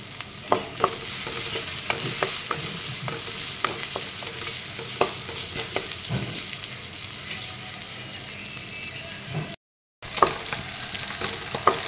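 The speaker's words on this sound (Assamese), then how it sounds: "পিঁয়াজখিনি অলপ ৰং চুমুৱা হ'বলৈ দিম ইয়াতে জলকীয়া দুটাও দি দিলোঁ" Onions and green chillies fry in oil for a fish curry, a steady sizzle under frequent scraping stirs, with one brief silent gap.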